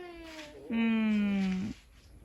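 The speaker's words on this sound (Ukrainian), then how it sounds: "Хто так котик кричить?" A house cat at a rural family home gives one loud, drawn-out meow lasting about a second, close by, after a softer, shorter cry, with faint background sounds around it.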